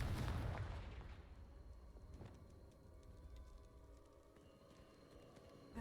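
A Confringo spell explosion in Hogwarts Legacy booms at the start, then fades into a low rumbling tail with scattered faint crackles.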